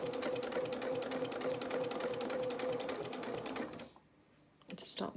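A home sewing machine stitches small, floppy fabric for a toy rabbit's dungarees, running in a steady rapid whir of needle strokes for about four seconds, then stopping short before a brief handling noise.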